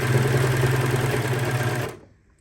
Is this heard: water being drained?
no